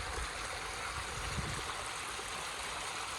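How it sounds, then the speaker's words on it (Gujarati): Water gushing steadily from a motor-driven pump on a Gujarati village farm, a continuous close rushing and gurgling flow with no talking. "એને પાણી પાઈને મોટર ચાલુ કરી નાખીને આમાં પાણી ચાલુ કરી દીધું છે"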